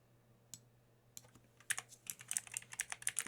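Computer keyboard typing, a few isolated keystrokes at first, then a quick close run of crisp clicks that grows denser toward the end, with no voices.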